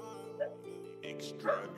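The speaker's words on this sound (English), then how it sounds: "Don't mind me with the dogs." A couple of short, sharp dog barks ring out about a second apart, close by, over a steady low hum.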